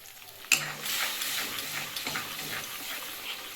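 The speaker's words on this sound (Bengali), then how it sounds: "থোর বাটারটা আমি দিয়ে দিয়েছি এবার এটাকে নাড়তে হবে" Mashed banana stem paste is stirred in a pan, with a sudden knock at the start followed by soft continuous sizzling and scraping, close and fairly quiet.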